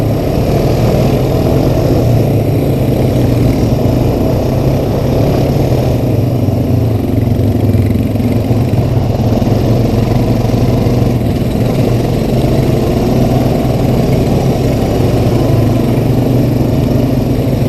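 Honda Recon ATV engine running steadily on a trail ride, a continuous loud low-pitched drone with a rough mechanical throb that holds level throughout, with no talk over it.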